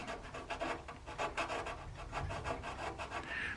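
A hand file rasps against plastic on a model ship, repeated quick back-and-forth strokes in an uneven rhythm, close and fairly quiet, with no talking.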